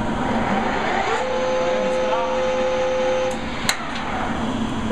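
A metal lathe runs with a steady, even motor drone and a faint whine, holding constant loudness throughout, broken by one short sharp click near the end.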